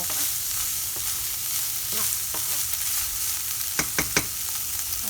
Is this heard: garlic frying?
yes